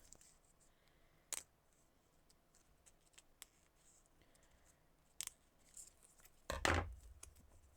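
Sparse, sharp snips of scissors cutting, a few isolated crisp clicks spaced seconds apart, then a louder rustling cut near the end.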